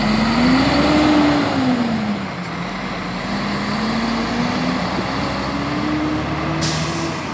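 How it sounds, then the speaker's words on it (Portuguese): A Marcopolo Paradiso G7 1200 intercity coach drives past at a Brasília interstate bus station, its engine droning loudly with a rising and falling tone and a brief hiss near the end. "Mais um carro seria Marco Polo, Paradiso G7 1200."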